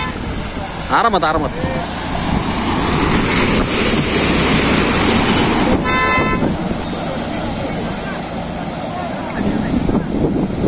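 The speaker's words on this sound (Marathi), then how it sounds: "थार घेऊन आता ते चाललेले आहेत त्यावेळे पाण्यात." A Mahindra Thar drives through water near a waterfall campsite, producing a steady engine rumble with continuous splashing and wind buffeting. A horn toots briefly, and voices talk over it throughout.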